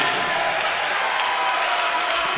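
A basketball arena crowd at an East Carolina versus Temple game applauds and cheers steadily as a player checks in, a continuous broad roar with no clear breaks.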